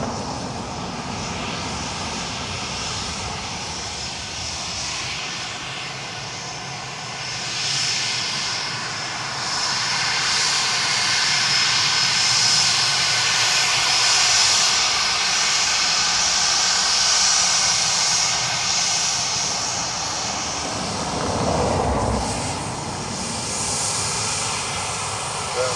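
At Dublin Airport on a calm day, a fixed-wing airliner rolls in to land on runway 2 left. Its engine roar builds and swells, holds steady for most of the stretch, then shifts and eases away.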